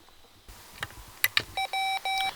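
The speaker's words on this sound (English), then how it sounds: "I start with a single beep" A Mr. Rags macro keyer sounds a short tone, then a few clicks and several clean, evenly spaced electronic beeps in quick succession, faint and close in a quiet room.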